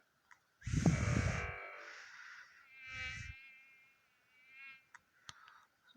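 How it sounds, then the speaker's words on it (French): High, thin mosquito buzzing whines in the game Plague Inc. drift in and out in a few separate bursts, with a low rumble under the first one and short clicks near the end. "quand ils entendent le bruit des moustiques"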